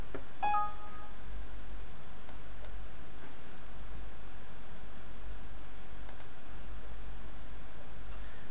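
A computer mouse clicks through software menus, a few sparse, faint, sharp clicks spread over a quiet background hiss.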